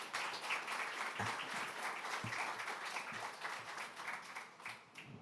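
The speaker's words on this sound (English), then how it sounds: "Let's applaud our speaker." An audience claps steadily for a speaker at a talk on AI adoption. The applause is dense and continuous, rather faint and distant, and tapers slightly toward the end.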